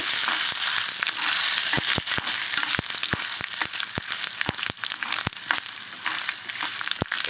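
Gongura leaves dropped into hot oil in a pan for Andhra-style chutney, giving a loud steady sizzle with sharp crackling pops scattered throughout, close and continuous with no talking.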